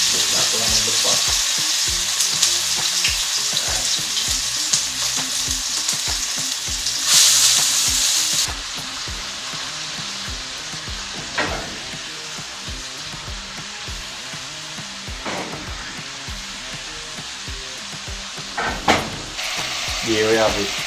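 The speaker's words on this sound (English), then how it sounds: "Ready to re-fry our chicken." Curry-soaked Jamaican chicken pieces fry in a pot with a loud, dense, continuous sizzle and crackle, close up and steady, with occasional stirring knocks and a brief burst of brighter hissing partway through.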